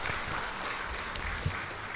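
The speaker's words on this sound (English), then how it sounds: "A huge round of applause as he takes the stage." Steady applause from an audience at a university workshop on implementing India's NEP 2020 as a dignitary takes the stage for an inaugural address, a dense even wash of clapping that runs throughout without a break.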